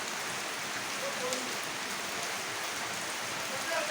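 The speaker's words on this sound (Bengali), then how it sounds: "কি সুন্দর দেখেন আমি বৃষ্টি উপভোগ করতেছি" Steady night rain pouring down, a dense even hiss of drops on surfaces that continues without pause.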